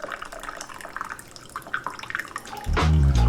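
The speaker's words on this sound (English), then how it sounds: "Nice little ASMR pour there for ya." Re-steeped tea poured from a pot into a cup, a close trickling and splashing stream that swells into a fuller, louder gush near the end, with no talk.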